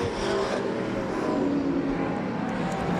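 Race cars in a State Farm Outlaws heat race roar past on the track at Claremont Motorsports Park, a loud continuous engine drone with a whining pitch shift as cars pass close by.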